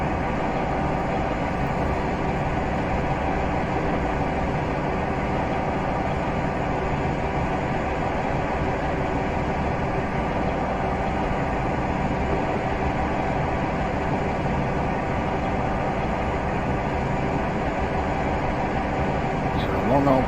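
A Class 47 diesel-electric locomotive in Train Simulator Classic rumbles on steadily, a loud, continuous engine and rail roar with no clear breaks.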